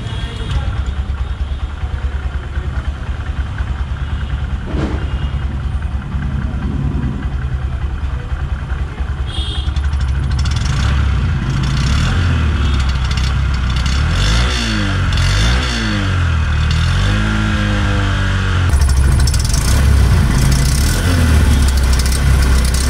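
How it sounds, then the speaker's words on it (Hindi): A 2021 Honda SP 125 BS6 motorcycle with a 125cc engine idles with a steady putter, then revs up and down several times in rising and falling sweeps, loud and close. "अब मैं आपको इसका एग्जॉस्ट नोट सुनाता हूँ"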